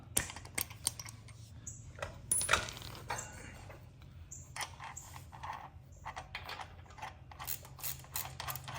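Nut and washers being fitted onto the rear pulley of a custom big block mini bike, giving a run of small metallic clicks, ticks and clinks that come close and fairly quiet over a low steady background hum.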